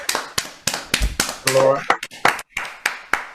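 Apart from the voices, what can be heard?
round of applause for a speaker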